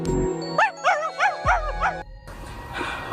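A dog gives a quick run of about five yelping, howl-like barks in a steady rhythm, close and loud, before a noisier background takes over.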